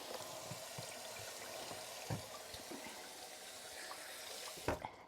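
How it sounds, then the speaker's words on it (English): Hands being washed under a running kitchen tap, a steady soft splashing stream with a few louder splashes and clunks near the end, fairly quiet and without talk. "Let me wash my hands."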